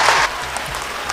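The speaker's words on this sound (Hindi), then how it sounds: "एक बार बेगूसराय के लोगों से आग्रह करता हूं कि नीतीश कुमार जी के लिए जोरदार ताली" A crowd at a political rally in Begusarai claps loudly in a dense burst that quickly fades to scattered applause.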